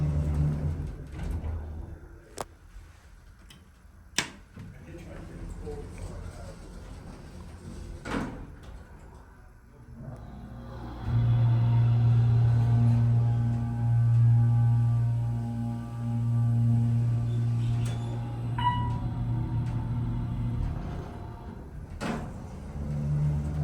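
Otis Series 1 hydraulic elevator in a church carrying a rider: a door thud and clunks, then a steady loud low motor hum and pump drone for about ten seconds that settles as the car stops, with another door clunk at the end.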